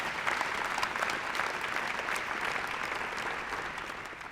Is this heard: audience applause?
yes